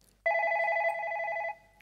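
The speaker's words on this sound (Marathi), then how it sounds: "पहिला फोन आलेला आहे" On a Marathi TV comedy show, a telephone rings in one continuous, rapidly trilling electronic burst lasting over a second, clear and close with no talk over it.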